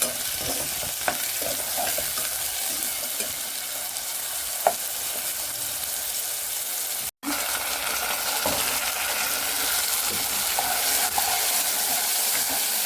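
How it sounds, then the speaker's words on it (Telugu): Onions frying in a pan for a rajma curry hiss steadily up close, with occasional light scrapes and clinks of a utensil, a brief dropout partway through, and no voices. "ఉల్లిపాయలు జారుగా వేగనిద్దామండి"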